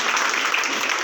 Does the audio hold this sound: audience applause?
yes